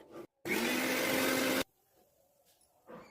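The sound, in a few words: mixer grinder blending paan leaves with water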